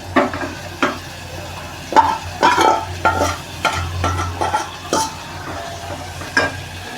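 Washed dried fish (sukat) drops into a hot pan and fries with a low sizzle, broken by repeated stirring scrapes and clinks of a spoon against the pan.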